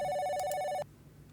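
A desk telephone in the video game Office Simulator rings with an electronic tone that cuts off abruptly after under a second, leaving faint quiet behind.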